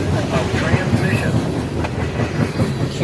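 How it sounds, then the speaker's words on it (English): Freight train Q581 rolls past close by, a loud rumble with rhythmic clickety-clack of wheels over rail joints and faint squeals throughout. "Q581 would be the last train that we would see on this Saturday"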